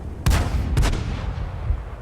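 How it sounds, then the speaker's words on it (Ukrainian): Two heavy cannon blasts from a tank in a World of Tanks-style game on the Fjords map, likely an M10 RBFM autoloader, boom about half a second apart, each with a rumbling low tail over steady battle ambience. "постріляли ми, постріляли, вибили лише 129 хп з одного"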